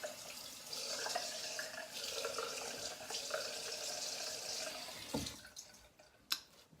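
Tap water runs steadily into a sink while wetting the face before a single edge safety razor shave, a close, continuous splashing flow that cuts off near the end with a few drips and a clink.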